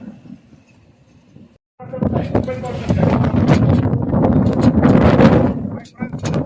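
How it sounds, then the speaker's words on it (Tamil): Strong sandstorm wind in Rajasthan roars loud and gusty after a quiet opening, a broad rushing buffet against the microphone that holds for several seconds, with a voice talking under it. "இதெல்லாம் வந்து மணல் புயல், இது பேர் மணல் புயல், காற்று சூறாவளி"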